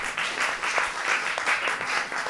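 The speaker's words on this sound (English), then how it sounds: "Please give another warm applause to Holly" Steady applause from an audience honoring a speaker, Holly Channell, with dense continuous clapping filling the short moment, moderately loud and even throughout without talk.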